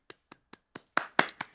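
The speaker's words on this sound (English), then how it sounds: "I feel like that deserves a clap." A few people clap their hands: four sparse, separate claps come first, then a denser burst of louder clapping close by, with no talking.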